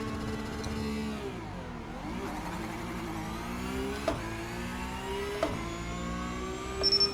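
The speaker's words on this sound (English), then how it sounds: "A bit of tyre chatter on that one" Race car in iRacing making a standing-start launch, engine revving steadily and climbing in pitch with a brief dip, then pulling away with a few sharp ticks and a flutter of tyre chatter near the end.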